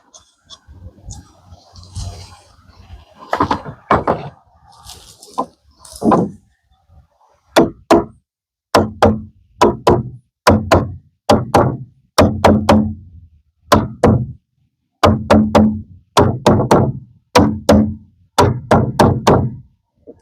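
Wooden pieces are knocked into place under a window header on a load-bearing wall of an 8x8 tiny house, with a steady run of sharp, close hammer knocks in short bursts and brief pauses, and no talking.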